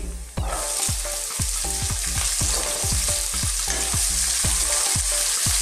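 Onion and chili sautéing in a hot pan for a Filipino bitter melon and fish dish, giving a loud, steady sizzle. Repeated scrapes and knocks from stirring come every half second or so.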